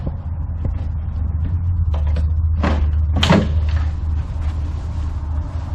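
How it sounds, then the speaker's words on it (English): A solid wood drawer in an interlocking-drawer furniture unit slides open with a few close wooden knocks and scraping rubs, over steady low room hum. "Now with it in the locked position, we're able to access the second drawer."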